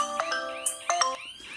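A smart home alarm system rings with an incoming call, giving a short electronic ringtone of bright chiming tones in two or three quick bursts, clear and close with no voices.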